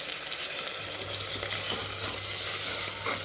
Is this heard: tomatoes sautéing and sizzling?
yes